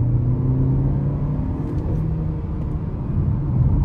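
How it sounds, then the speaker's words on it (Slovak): A 2024 SsangYong Korando 1.5 turbo GDI engine holds its revs after the clutch is pressed, a steady low droning rumble heard from inside the car, continuous and even with no talk. "ale zostanú proste asi 3 alebo 4 sekundy stáť na tých otáčkach, kde som v tej chvíli stlačil spojku"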